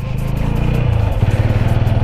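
A motorcycle engine labours steadily up close as the bike rides over a rough, rocky, gravel-strewn off-road track in the hills, its throbbing note shifting slightly as it works across the broken surface.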